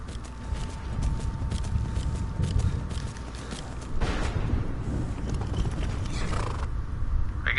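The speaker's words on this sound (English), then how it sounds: "There's Arvak the horse." The horse Arvak in the video game Skyrim gives clip-clopping hoofbeats and a whinny, loud and close against a dense, rumbling background of game ambience.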